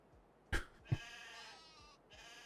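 Sheep bleating in the Farming Simulator 25 video game, with two short bleats close together followed by a quieter drawn-out bleat over a soft snowy background.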